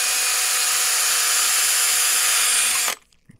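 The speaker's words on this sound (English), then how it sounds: "So we'll just take it using an 1/8 inch drill bit, brad point." A power drill with a 1/8-inch brad point bit whines at a steady high pitch while boring a hole for a kayak build for nearly three seconds, then cuts off abruptly into near silence.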